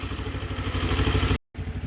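Motorcycle engine running close by with an even, thumping idle pulse, briefly cut off for a moment before resuming.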